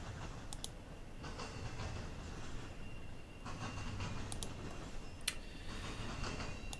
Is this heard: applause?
no